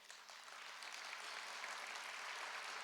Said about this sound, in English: Please give a round of applause to our incredible musicians here tonight.